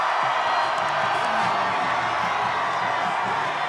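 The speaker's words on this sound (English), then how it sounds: "his supporters continued to cheer and chant" Supporters at a Bernie Sanders rally at the Utah State Fairpark roar in a steady, dense wash of crowd cheering and whooping that holds through the clip with no single voice standing out.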